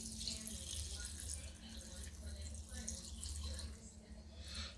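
Brine for pickled jalapenos is poured through a canning funnel into a jar, giving a continuous, soft gurgling trickle of liquid that is fairly faint and steady throughout.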